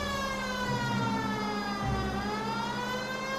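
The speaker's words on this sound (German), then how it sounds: "Dann mache ich jetzt eben die Sirenen an." Police car siren in the video game LA Noire, a continuous wailing tone rising and falling over a low engine hum, fairly loud and without speech.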